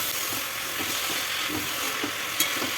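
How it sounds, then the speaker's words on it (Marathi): Leafy greens (palebhaji) stir-fried with salt in oil in a pan, a steady close sizzle with soft scraping stir strokes throughout and one brief sharper clink near the end. "भाजी मस्त अशी परतून घ्यायची आहे"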